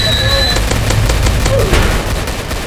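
Rapid gunfire from a gun in the Roblox video game, a loud fast train of evenly spaced shots over a low rumbling background, with voices talking underneath.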